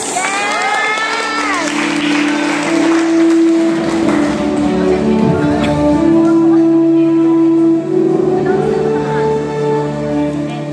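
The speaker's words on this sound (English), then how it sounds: "let's give her a round of applause" A graduation crowd cheers, claps and whoops for a cum laude graduate, a loud, dense burst of applause with shouting and voices mixed in, swelling and continuing steadily throughout.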